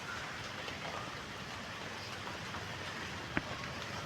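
Steady rain falls in a rose garden among flowering potted gerbera plants, a soft, even wash of patter from start to finish with one brief sharper drop or tap near the end, no voices.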